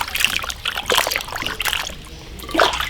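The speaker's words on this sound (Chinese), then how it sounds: "把排骨血水洗干净。" Raw pork ribs being rinsed by hand in water to clear off the blood, with close splashing and trickling in irregular bursts and brief quiet gaps between.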